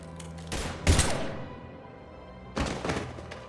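Gunfire in the video game Mass Effect 3: two loud, punchy bursts of shots about two seconds apart, each with a sharp crack and a short echoing tail, with quiet gaps between.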